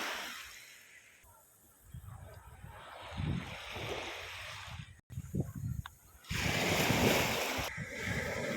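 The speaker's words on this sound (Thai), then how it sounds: "น้ำทะเลครับซัดเกยขึ้นมาครับ" Sea waves wash up on a sandy beach at Chao Mai and Hua Tan in Phetchaburi, Thailand, rising and falling in broad surges with wind noise, the loudest wash near the end.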